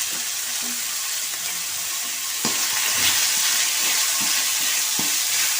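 Vegetables sauté in a hot pan for pasta, a steady close sizzle and crackle with occasional scraping stirs and soft clinks, the frying noise continuous and fairly loud with no talking.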